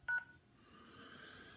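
A touch-tone telephone keypad gives a quick pair of short dialing beeps at the start, then fades into quiet room hiss with no talking.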